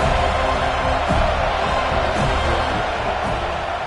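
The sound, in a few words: football stadium crowd cheering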